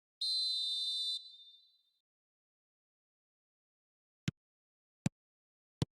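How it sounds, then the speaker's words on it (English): A referee's whistle in a football video game gives one long shrill blast that fades out. Three sharp, widely spaced clicks follow after a pause of silence. "There's the whistle, and here we go."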